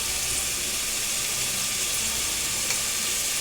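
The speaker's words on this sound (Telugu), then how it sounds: "టమాటాలు కూడా ఆయిల్లో ఇలా వేసుకొని ఫ్రై చేసుకోవాలి." Tomatoes fry in hot oil for a chicken curry, giving a dense, even hiss that holds steady throughout with no talking.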